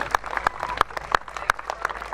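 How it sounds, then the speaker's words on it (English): An outdoor audience at an armed forces weekend event in Felixstowe claps for a pikemen display, giving a short burst of scattered, moderately distant hand claps. "Round of applause for the brave pikemen."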